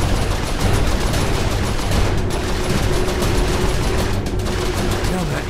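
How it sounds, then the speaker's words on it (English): A turret in the Saints Row IV video game fires at ships in a dense, rapid, continuous barrage, loud and close, with voices talking over it. "Now, Matt, it helps when you actually hit the ships."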